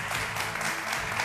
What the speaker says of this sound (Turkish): Bir alkış istiyorum. Hem de kocamanın da